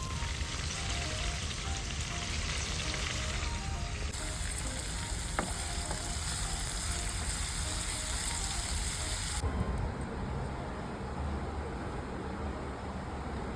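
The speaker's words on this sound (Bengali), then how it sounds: "আলু ভাজা চলছে।" Potatoes fry in a home kitchen pan, giving a soft, continuous sizzle and crackle that holds steady throughout, fairly quiet and close, with no voices heard.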